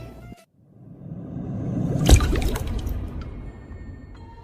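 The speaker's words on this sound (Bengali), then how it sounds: "একটা কাজের মহিলা জগ এনে গ্লাসে পানি ঢেলে দিল" Water poured from a jug into a glass: a continuous liquid pour that swells into a brief, sharper splash midway and then trails off, close and alone with no talk.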